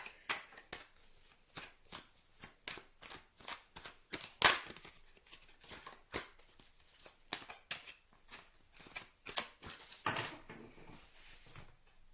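Tarot cards shuffled repeatedly, close, rapid papery flicks and riffles in uneven bursts with a few louder slaps, continuing steadily throughout with no talking.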